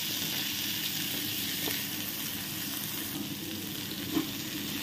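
Chopped onion and garlic fry in a pan over a slow flame, giving a steady, dense sizzle and hiss close by that continues without a break, with one faint stir or clink near the end.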